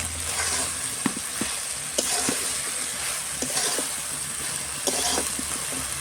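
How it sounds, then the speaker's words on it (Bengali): Fried chicken pakoras tossed in a pan with soy sauce, tomato sauce and chilli for chilli chicken, a steady sizzle punctuated by rhythmic spatula scrapes and knocks against the pan. "এবার ভেজে রাখা চিকেন পকোড়াগুলো এর মধ্যে দিয়ে ভালো করে কষিয়ে নেব।"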